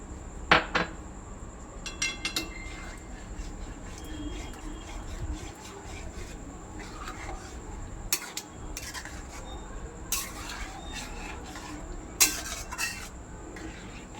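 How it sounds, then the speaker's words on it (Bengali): Dal being stirred in a cooking pot, heard as quiet scraping and clinking of a spoon against metal in irregular strokes, with a few sharper taps, close and faint, with no talk. "ভালো করে ডালটা মেশাতে হবে।"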